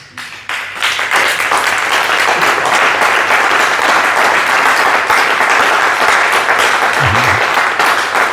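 A church congregation breaks into loud, sustained applause that swells within the first second and holds steady as a dense wash of clapping.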